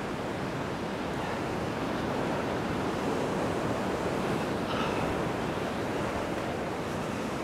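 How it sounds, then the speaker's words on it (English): Ocean surf on a beach, a loud, continuous roar of breaking waves with steady wind buffeting, heard up close, with no talking. "The roar of the waves is very loud."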